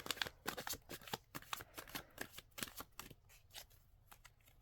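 A deck of tarot cards riffles and slides in a rapid run of sharp, close shuffling snaps that gradually slow and soften toward the end, with no talking.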